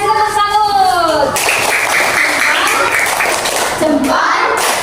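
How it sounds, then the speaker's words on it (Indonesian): Schoolchildren give a salute clap in a classroom lesson, a dense burst of many hands clapping after the teacher speaks, with voices around it. "Oke, bagus sekali guys, tepuk salut."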